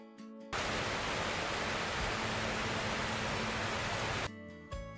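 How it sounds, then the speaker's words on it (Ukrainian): A steady, even hiss like rain pouring down starts abruptly, holds for several seconds without change, then cuts off, with quieter tones before and after. "Як крапає дощик?"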